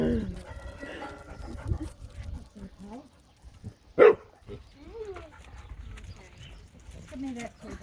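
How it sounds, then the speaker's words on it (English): A female dog barks at a gate, with a few sharp barks in bursts amid nearby movement and a voice scolding over them. "if you bark again, you're going straight to the kennel, Francie."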